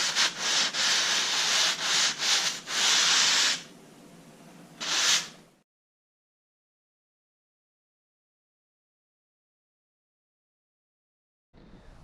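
Hand-sanding a drywall patch: several quick rasping strokes followed by a longer scrubbing pass, then a softer stretch and one last short stroke before silence, with a brief noise returning at the very end.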